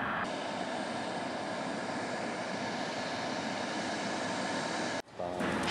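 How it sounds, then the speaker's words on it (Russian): A small airplane taxis toward onlookers at Taldykorgan airport, its steady engine drone loud and continuous before cutting off abruptly near the end. "И вот сейчас к нам едет самолетик."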